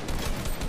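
Rapid burst of video game gunfire from a Fortnite-style match, dense and continuous with several closely spaced shots across a fraction of a second, loud and close.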